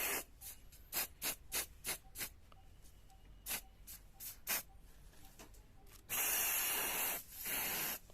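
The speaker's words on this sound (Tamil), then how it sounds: "நான் மறுபடியும் இது மேலே ஸ்ப்ரே பண்ணிக்க போகிறேன்" A rapid series of short aerosol spray paint bursts onto a craft piece, followed by two longer continuous hissing sprays, close and fairly loud.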